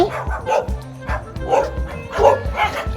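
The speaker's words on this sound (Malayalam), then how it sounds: "കുറേ പട്ടികൾ" Stray dogs barking outdoors during an evening walk, with repeated close, loud barks and yips coming roughly once per second, several dogs overlapping.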